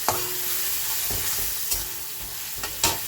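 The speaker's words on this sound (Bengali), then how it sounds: "পেঁয়াজ কুচিটা একটু ভাজা ভাজা হলেই দিয়ে দেবো আলু পটলটা।" Chopped onions fry in plenty of oil in a pan, giving a steady, close sizzle with a few sharp clinks and stirring scrapes of a utensil, and no voices.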